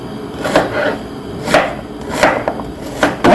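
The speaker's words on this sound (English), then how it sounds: "So that's the onion, and we're gonna roughly cut" Onion roughly chopped with a knife on a cutting board for braised beef cheeks: five sharp, fairly loud chops spaced about a second apart, close up.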